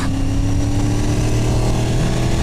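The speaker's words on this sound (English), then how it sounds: "Also forgot to mention, yeah, the exhaust. Loud pipes save lives." Honda VFR800 motorcycle with a loud aftermarket exhaust, a steady deep engine rumble held close and loud throughout, with no talk over it.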